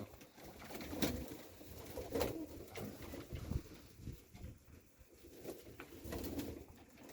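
Pigeons cooing near a rooftop loft, repeated soft throaty coos in an uneven rhythm, fairly quiet and close, with occasional faint rustles and flutters between calls.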